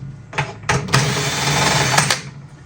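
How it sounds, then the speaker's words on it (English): A power drill fitted with a quarter-inch drive extension socket spins timpani tuning key heads, a close, fairly loud whirring motor run in short bursts then one sustained spin of about a second, starting and stopping abruptly. "I'm using a power drill with a extension quarter drive socket. It works perfectly on timpani key heads."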